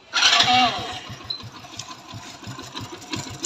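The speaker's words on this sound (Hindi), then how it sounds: "यहाँ से हम बाइक को स्टार्ट करते हैं और आपको दिखाते हैं इंजन की साउंड" A Hero Passion Pro i3s motorcycle engine starts with a brief whirring crank that catches, then settles into a rapid, even putter at idle, close and clear.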